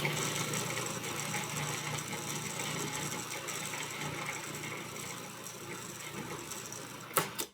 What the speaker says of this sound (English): now you puree this in the food processor until it comes